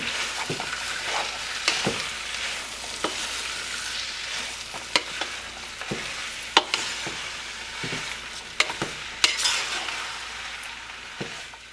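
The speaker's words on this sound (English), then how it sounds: "I'm going to mix it all together." Spicy pork curry with chilies and turmeric sizzles steadily in a pan while a spoon stirs it, making repeated sharp scrapes and clicks against the metal over the constant frying.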